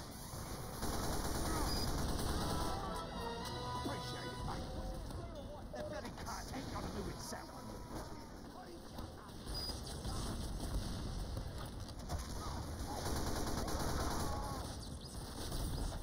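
Gunfire in Team Fortress 2 during a casual community match, steady rapid shooting and clatter under constant game ambience and voices talking.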